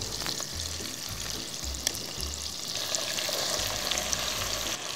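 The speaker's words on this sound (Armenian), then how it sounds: "Շատ լավ տապակում ենք, այնքան որ շատ լավ կորկա բռնի մեր հավի միսը" Chicken pieces fry in hot oil in a pan, with a steady close sizzle and occasional stirring scrapes running throughout.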